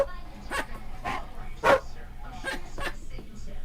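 A man imitates a barking dog with a handful of short, spaced bark-like vocal bursts, fairly quiet and close, one louder yelp in the middle.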